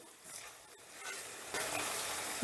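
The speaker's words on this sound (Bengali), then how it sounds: "এবার টমেটোটা দিয়েও আমি মিনিট খানিকের মতন একটু নাড়াচাড়া করে নেবো" Chopped tomatoes frying and being stirred in a pan for an aloo paneer makhani curry, a soft low sizzle that swells louder partway through, with faint stirring and no talking.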